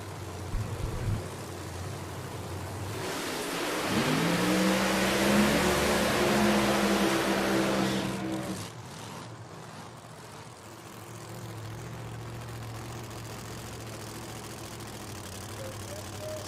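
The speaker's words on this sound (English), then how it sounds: "So Jeff Jones completing the burnout" A drag racing car at the Snowbird Outlaw Nationals does a burnout, with a loud, rising engine roar building for several seconds, holding, then cutting off into a lower idle rumble and open outdoor ambience.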